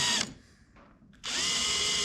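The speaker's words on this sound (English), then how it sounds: "And so I just used the drill with the clutch and then just went around and around until they stopped turning" A cordless drill with its clutch set drives screws into a Hobie 16 catamaran gudgeon, whirring in two high-pitched bursts, winding down briefly between them before spinning up again, close by.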